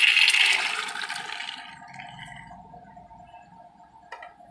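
Water pours into a pressure cooker holding peas, a splashing rush that is loudest at the start and then fades into a soft trickle with a faint hum behind it.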